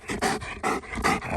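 A hunting dog pants hard after retrieving doves on a hot opening day in Kansas, with quick, rhythmic, close breaths and no talking.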